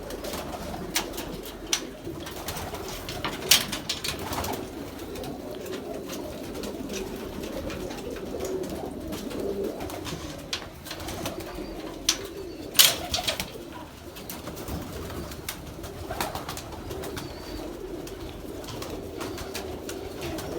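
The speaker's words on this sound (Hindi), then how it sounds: "ये गोल्डन कबूतर है," Soft, low cooing of golden pigeons repeats close by, with occasional wing flutters and brief rustling sounds scattered through the steady murmur.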